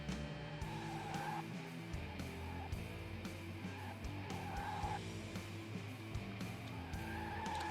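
Car driving in the video game Rising Star 2, a steady engine drone with tire squeal and skidding bursts repeating through the stretch, mixed under game background sound.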